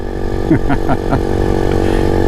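A Honda CT70 clone mini bike launches wide open from a standstill. Its small engine whines upward in several quick rising sweeps as it shifts through the gears, loud and close.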